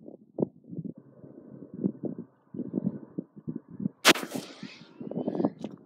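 A single sharp crack from an M6 Scout survival rifle fired outdoors in heavy wind, standing out mid-clip above constant gusty wind buffeting on the microphone.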